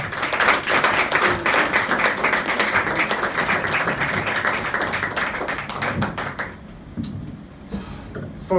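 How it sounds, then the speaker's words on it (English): Audience at the Woolen Mill Comedy Club applauds comedian Kevin McTaggart, dense steady clapping and cheering that fills most of the stretch, then thins to scattered claps before fading. "Ladies and gentlemen, big round of applause for Kevin McTaggart!"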